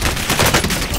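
Sustained automatic gunfire in Call of Duty Warzone, a dense, rapid string of loud shots close by, continuous for about a second with no talking.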